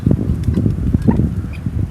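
Rainbow guinea fowl chicks roaming through woodland on a farm, a steady mass of soft peeping and chirping calls close by, continuous over low rustling ground noise.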